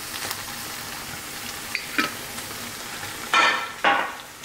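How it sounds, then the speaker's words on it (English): Food sizzles and crackles in a hot pan, with a few louder hissing bursts as ingredients are stirred, close and without talk. "Got it cooking, getting that little sizzle."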